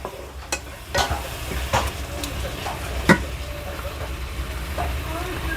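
Mango jam cooks slowly in a pot over a low gas flame. It gives a soft, steady sizzle with occasional scraping stir clicks and light knocks, close by and fairly quiet.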